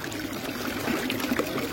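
Steady water trickles and splashes from the Erbsebrünnele, a mineral-water fountain on Marktstraße in Bad Cannstatt, as a continuous close stream with no talking.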